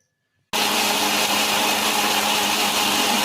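A mixer grinder blends a banana milkshake with milk and sugar, its motor kicking on abruptly after a brief silence and then whirring loud and steady, with no talking.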